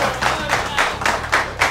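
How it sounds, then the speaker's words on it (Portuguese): Applause for the winner of a fishing tournament at a fishing lodge: rhythmic hand clapping in repeated bursts, with voices in the background. "E uma salva de palmas pra ele."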